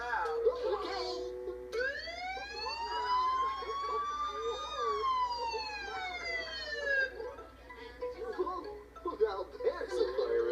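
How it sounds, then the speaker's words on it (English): A toy fire engine's electronic siren wails loudly, its tone rising and falling in a long sweep after a short click, while a person talks and chuckles over it. "here is where you turn on the siren"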